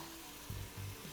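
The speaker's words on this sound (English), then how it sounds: "So first I will put in some onion. You can hear it sizzle." Onion, carrots and celery sautéing in an Instant Pot give off a soft, steady sizzle, with two brief louder bursts as vegetables are stirred or added, close and without talk.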